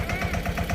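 A tractor engine idling close by, a loud, rough low throb with a steady chugging pulse.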